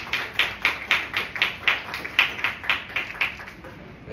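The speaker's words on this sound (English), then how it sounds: "Let's give him a round of applause" A round of applause for a hotel general manager at a Miss World 2023 press conference in the Philippines: a small group clapping in a steady, even rhythm, moderately close and fairly quiet.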